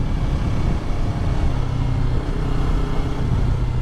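A Yamaha R3 motorcycle's engine drones steadily while riding, a loud close rumble with wind noise and small dips in level, with no talk.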